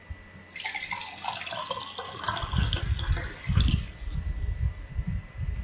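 Water is poured from a container, a few seconds of continuous splashing and gurgling that swells and fades unevenly, close and fairly loud, with no talking.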